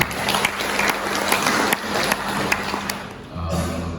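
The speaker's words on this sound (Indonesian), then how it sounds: "Kita tepuk tangan." Applause from the audience at a rector's inauguration and handover ceremony in Biak, moderate and steady with scattered sharper claps, fading toward the end as a low hum enters.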